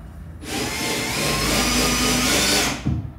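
A power drill whines steadily for about two seconds as it bores through wooden cabinets to join them, then stops abruptly with a short clunk.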